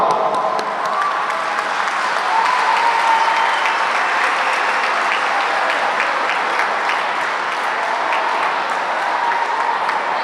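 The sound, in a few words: audience applause for family members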